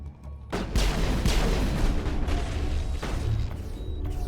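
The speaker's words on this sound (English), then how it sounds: "Use them flashbangs." Several loud, sharp blasts from flashbang grenades in a dark shooter video game, the first bursting in suddenly after a brief quiet moment, followed by a dense barrage of booming detonations that carries on without letup.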